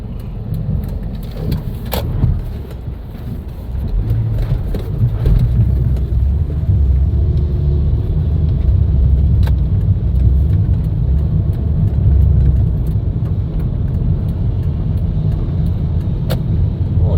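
Steady car traffic rolls along a street in Vientiane, Laos, in the late afternoon, a continuous dense rumble of engines and tyres close by with occasional brief sharper noises and no talk.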